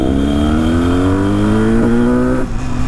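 A loud, close tuned Yamaha RD350 motorcycle engine revs steadily in second gear with a rising pitch, holding strong before easing off near the end.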